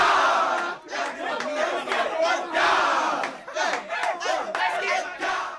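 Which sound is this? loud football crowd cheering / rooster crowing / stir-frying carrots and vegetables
loud football crowd cheering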